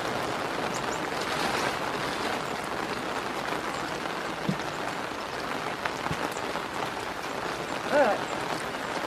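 Steady rain falls outdoors in Georgia woods, a dense continuous patter on leaves and an umbrella close by, with a few louder drops and a brief thump near the end.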